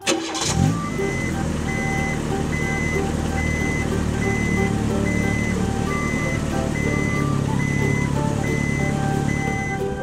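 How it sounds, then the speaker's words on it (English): A toy garbage truck sounds a steady, regularly spaced reversing beep over a continuous engine-like rumble, loud and close, running alone the whole time. "Green garbage truck."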